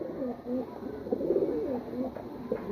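Several pigeons, male and female kept together, coo close by in low, rounded, repeated calls that swell and fade across the moment.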